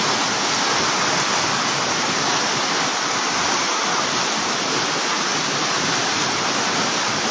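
Floodwater rushes loud and unbroken through Bonbon, Libon, Albay, a dense roaring wash with no pause.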